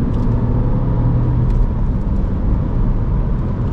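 A car accelerates at full throttle on the Nürburgring in the rain, its engine a loud, steady, close rumble with road and spray noise that holds without letup.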